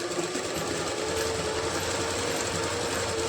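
A sewing machine runs steadily, stitching the seam of palazzo pants with a continuous fast mechanical whir at moderate loudness, with no voices.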